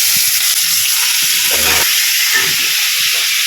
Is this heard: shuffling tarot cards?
no